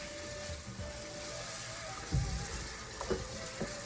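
Duck curry frying in oil in a pot on the stove gives off a steady, quiet sizzle and hiss, with a few soft knocks and stirs.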